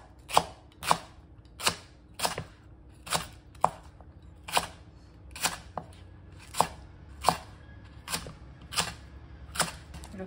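A knife chops green onion into large pieces on a cutting board in steady, evenly spaced thuds, about a dozen crisp strikes, close and clear with a quiet background.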